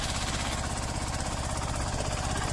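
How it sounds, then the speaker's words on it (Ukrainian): Tractor ploughing a field in third low gear during spring ploughing, its engine chugging with a rapid, rough, jackhammer-like beat, steady and close, with no voices. "третя понижена передача, трактор їде сам"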